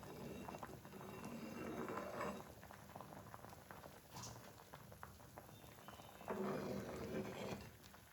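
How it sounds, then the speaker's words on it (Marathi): A pot of toor dal at a rolling boil and foaming up, giving a continuous bubbling, spattering texture that swells and eases in waves. "जशी जशी उकळी येते तसा तसा हा फेस येतोय."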